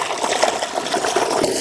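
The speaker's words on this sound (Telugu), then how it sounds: "నీళ్ళు వస్తాయి చూడు మోటార్ వేసినా" Water from a motor-driven pump gushes steadily into an irrigated farm field beside a gongura (sorrel) patch, a continuous close splashing flow with no pauses.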